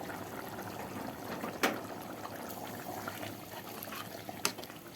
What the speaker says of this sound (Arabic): نحط له كده شويه ميه صغيرين